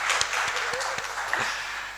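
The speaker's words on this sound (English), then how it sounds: "I think we can give that an applause." Audience applause fills a conference hall, a steady wash of many hands clapping close by with a few sharper individual claps standing out, continuing without pause for about two seconds.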